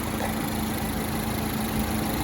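A 2008 Mini Cooper S engine idles steadily up close, a continuous even hum with a constant low tone and no talking.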